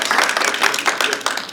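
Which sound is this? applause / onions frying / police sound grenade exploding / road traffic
applause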